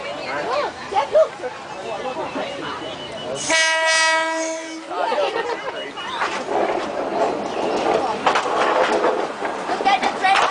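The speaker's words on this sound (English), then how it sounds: "Look at the train." The Maeklong market train in Thailand rumbles through the market and sounds one long, loud horn blast, while crowd chatter and talking continue around it.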